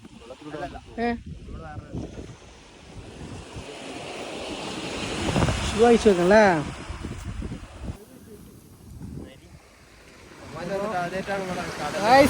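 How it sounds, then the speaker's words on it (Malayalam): Waves of the Omani sea wash against the shore in a rolling surge with wind buffeting the microphone, while people talk over it. "ഇതാണ് ഒമാനി ഒമാനി കടൽ"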